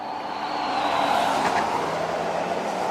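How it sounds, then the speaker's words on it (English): Steady road traffic near Las Vegas airport, a continuous loud broadband rumble with a car swelling past around the middle, no speech. "there's so much traffic noise"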